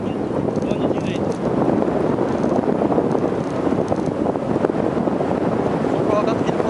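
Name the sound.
wind during paraglider flight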